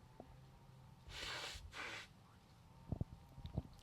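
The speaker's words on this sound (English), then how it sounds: "I'm gonna blow my nose again." Two quick, breathy nose blows in close succession, faint and close, followed by a few soft clicks and shuffles.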